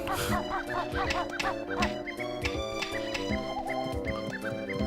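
Busy, overlapping squawks and honking calls from several birds in the video game Banjo-Kazooie, loud and continuous, over a rhythmic background beat.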